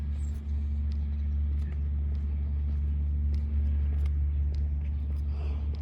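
A car engine rumbles low and steady throughout, a constant heavy drone close by with faint higher noises over it.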